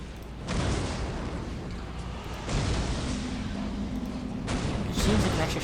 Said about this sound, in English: There's too many gunshots going off.